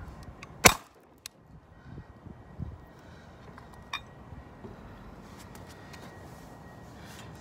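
A Windsor probe powder-actuated concrete test gun fires once, a sharp, loud crack early on, then fading into quiet room noise with a few faint clicks and handling knocks.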